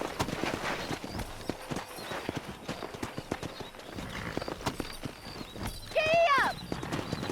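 Horses in the Western video game Red Dead Redemption: steady clip-clop of hooves throughout, with a loud, wavering whinny close by near the end.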